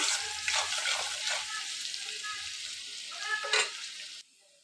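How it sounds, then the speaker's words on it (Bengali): Onions sizzling and frying steadily in a pan, with occasional stirring scrapes, the hiss cutting off abruptly near the end. "পেঁয়াজটা আমার লাল লাল করে ভাজা হয়ে গেছে"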